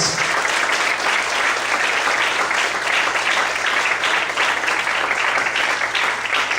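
A church congregation applauds loudly and continuously, a thick, sustained wash of many hands clapping together with no break and no talk over it.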